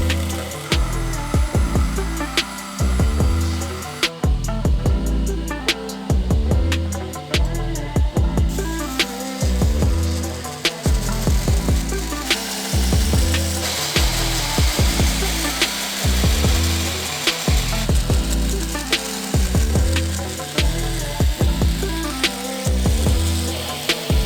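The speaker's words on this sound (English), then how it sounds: "cutting it down on the bandsaw helps that tremendously." A bandsaw cuts a steel knife blank to rough Bowie shape, its steady machine drone broken by loud, regular rhythmic pulses as the blade works through the metal, close and sustained throughout.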